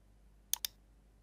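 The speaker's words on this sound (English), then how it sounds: "Okay, now click on apply and okay." Two crisp, close mouse clicks in quick succession on apply and okay in Windows, in an otherwise quiet room.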